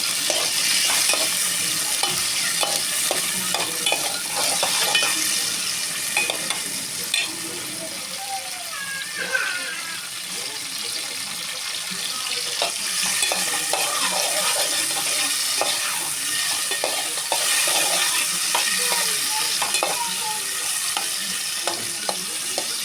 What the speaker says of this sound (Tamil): இப்போ தக்காளி போட்டுக்கிறேன். 3/4 கிலோ சிக்கனுக்கு 2 கிலோ தக்காளி எடுத்துருக்கேன். நல்லா வதங்கட்டும்.